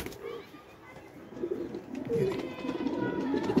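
Soft Amritsari pigeons coo with low, throaty murmurs close by in a pigeon loft in Lucknow, India, rising toward the end amid a mix of rustling and faint background voices.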